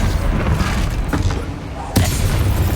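An explosive barrel spell detonates in Hogwarts Legacy, a sharp booming blast near the end over a steady rumble of game noise.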